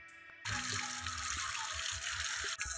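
Tap water running over a potted Shatamuli (asparagus) plant being washed, a steady close splashing stream that starts abruptly and continues to the end.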